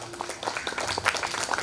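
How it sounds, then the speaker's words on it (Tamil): An audience at a Pongal gospel camp gathering claps in a brief burst of scattered applause, moderately loud and fairly close, with a few voices faintly mixed in. "கைதட்டுங்க பார்க்கலாம்."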